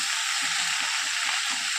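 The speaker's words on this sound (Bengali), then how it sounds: "তাই জন্য এই লঙ্কাগুলো ভাজা করে নিচ্ছি" Green chillies fry lightly in oil with a steady, close, even sizzle and faint stirring, no voices present.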